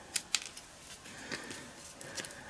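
Scissors snip paper a few times, with two sharp quick cuts near the start and softer snips later, close by in a quiet room.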